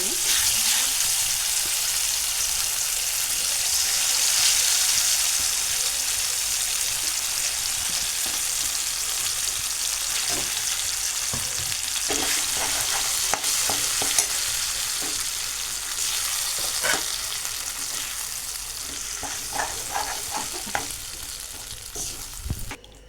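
Ground drumstick leaf chutney, pounded in a stone mortar, fries in a pan with a loud, steady sizzle throughout, and clicks of stirring grow more frequent toward the end.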